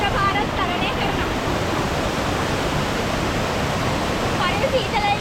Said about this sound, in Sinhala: අන්න අපි වතුර පාරක් තරණය කරනවා.